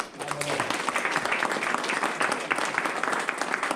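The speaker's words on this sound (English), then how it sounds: "so they deserve a round of applause." A crowd applauding steadily, dense clapping sustained throughout at a fairly loud level, with no speech over it.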